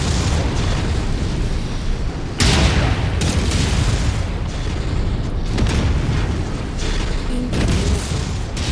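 Incoming missiles explode in a video game as a dense, continuous roar of blasts and rumbling booms, with louder impacts hitting in bursts against the unbroken din.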